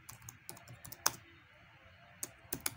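A command is typed on a computer keyboard while configuring a Cisco switch: a quick, irregular run of close, crisp key clicks, with a couple of sharper keystrokes, in a quiet room.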